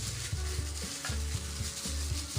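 Chanchamitos roast in a hot pan, a close, steady sizzle broken by regular scraping strokes roughly every half second, with no voices.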